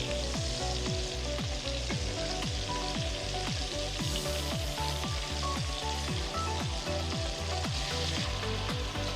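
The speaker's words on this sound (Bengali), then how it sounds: "এক পিঠ ভাজি হয়ে গেছে, এখন আমি মাছটা উল্টে অন্য পিঠও ভেজে নেব।" Shrimp frying in hot oil in a pan after being flipped, a dense continuous sizzle with rapid crackling pops throughout; close, steady and unaccompanied by speech.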